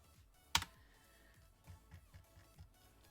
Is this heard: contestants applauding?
no